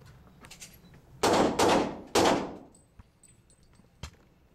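A Glock 34 pistol fired at an indoor range from 10 yards, with three loud, sharp reports in quick succession, each followed by a short echoing decay, then a fainter metallic clack.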